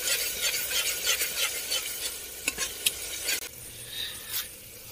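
Chicken frying in a pan at a night campsite, scraped and stirred with a utensil, giving a steady sizzle with repeated short scraping strokes up close and no talking.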